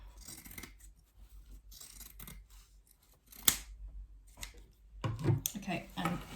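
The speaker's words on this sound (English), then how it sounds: "you can trim that side of the lining just to get rid of some of the bulk" Scissors snip through the seam allowance of a backpack's fabric lining, several sharp close cuts and soft fabric handling, with a quiet voice in the background.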